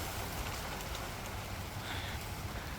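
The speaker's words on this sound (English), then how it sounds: "it started pouring down rain" Heavy rain pours down outdoors in a garden with newly planted fruit trees, a dense, even wash of droplets with no break and no talking.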